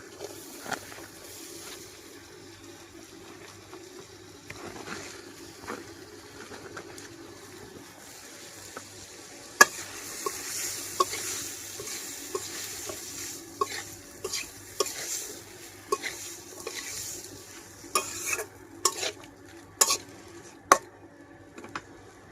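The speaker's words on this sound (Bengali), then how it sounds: "মাছগুলো কিন্তু হচ্ছে কিছুক্ষণ কষিয়ে নিব।" Small wetland fish being sautéed in a spiced tomato masala, soft low sizzling with intermittent scraping and clinking of a utensil stirring the pan, quiet at first and busier in the second half.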